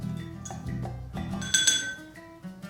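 A chopstick stirs a mojito in a glass, making a run of close, bright clinks against the glass with a quiet pause between taps, heard alone with no talking.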